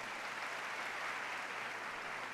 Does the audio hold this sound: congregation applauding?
yes